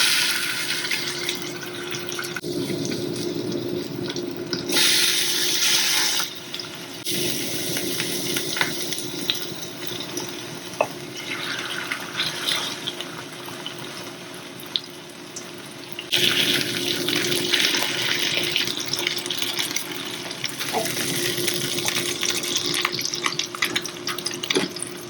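Dumplings sizzle meat side down in hot oil in a pan, a loud, continuous frying hiss with no talking that swells and fades in several stretches.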